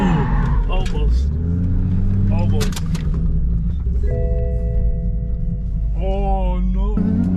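Cars drift, with engines droning and revving steadily underneath while people talk over the noise.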